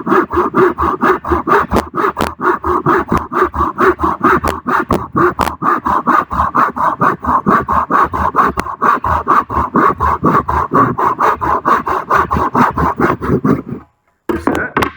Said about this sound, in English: You just keep on sawing.